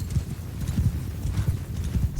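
Horse hooves pound in a dense, irregular clip-clop of cavalry galloping across a Mount & Blade 2 Bannerlord battlefield, close and steady with no talk over it.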